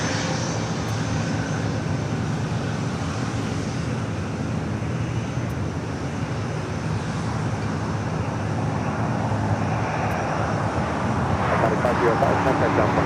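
A Bombardier Global 5000 business jet at LAX, heard as a steady, broad engine roar that fills the whole stretch and swells slightly near the end, with a voice talking over it.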